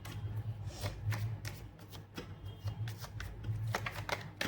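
Tarot cards being shuffled by hand, a quiet, close run of soft riffling flicks and taps in an uneven rhythm over a low steady hum.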